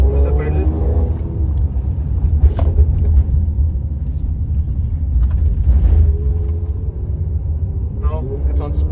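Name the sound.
Stage 2 Mercedes-AMG GLC43 engine revving in comfort mode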